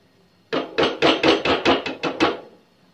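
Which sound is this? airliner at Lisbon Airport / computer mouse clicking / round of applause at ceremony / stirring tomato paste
stirring tomato paste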